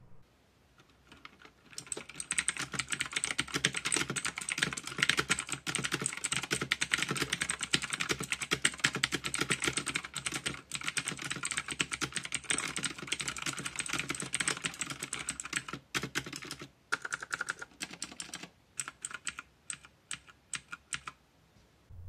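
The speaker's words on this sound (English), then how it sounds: "And here's the sound test of the Otemu switches." Steady, fast typing on an E-Element Z88 81-key mechanical keyboard fitted with Otemu blue switches makes crisp, close, clicky keystrokes that run continuously for about twenty seconds with only brief pauses.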